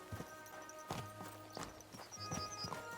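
Horse hooves clip-clop in a medieval video game setting, a steady walking rhythm of distinct hoof strikes on hard ground, close and clear against a light background.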